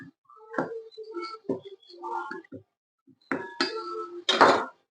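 Prawns being mixed with turmeric and salt in a bowl give off scattered clinks and scraping knocks of a utensil against the dish, in short irregular bursts with quiet gaps, ending in a louder clatter.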